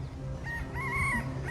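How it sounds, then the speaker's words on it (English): A mother hen clucking while teaching her chicks to eat outdoors in Hawaii, a few short rising and held calls over a busy background murmur, moderately near. "Mama Chicken teaching her kids how to eat."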